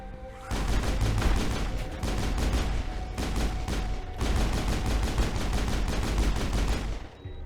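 Sustained gunfire in the action game Mass Effect, dense, loud bursts of rapid shots that roll on almost without a break, with one short pause midway and no speech.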